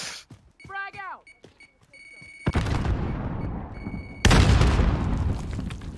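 An explosion and gunfire in the Call of Duty Warzone video game, with a loud sustained blast followed by a second heavier boom, while players talk excitedly at the start.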